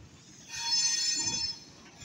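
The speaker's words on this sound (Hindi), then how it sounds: "ट्रेन सीधी ड्राई पोर्ट के अंदर जा रही है।" A train rolls into the Aza Khel dry port near Pir Piai railway station in Pakistan, a faint rumble that builds into a brief metallic screech and rolling noise before fading.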